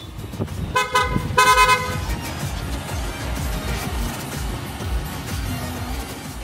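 A dual horn setup fitted to a car sounds in two short, loud, bright blasts close by, followed by a steady running engine rumble.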